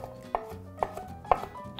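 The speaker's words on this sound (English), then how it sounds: "It's kind of pointless to keep chopping that up" A knife chops truffle on a cutting board in a home kitchen, three sharp distinct knocks spaced about half a second apart over a low background hum.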